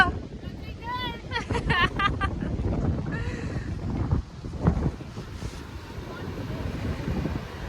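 Wind buffets the microphone on the Baltic Sea shore at Jurmala, with a steady rush of surf beneath it and a voice speaking briefly near the start.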